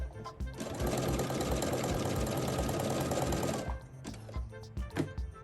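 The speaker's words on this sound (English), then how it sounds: "Then put the presser foot down and start to sew again." A sewing machine stitches a crocheted appliqué onto fabric in a steady, loud, rapid mechanical run of about three seconds, followed by clicks and handling noises as the presser foot is adjusted.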